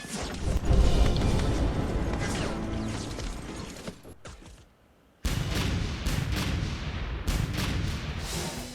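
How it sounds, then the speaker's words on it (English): Artillery fire in the Battle for Stalingrad video game, a dense roll of booming blasts and crashes that fades to near silence midway, then resumes with sharp repeated impacts. "So he's firing his artillery at us there."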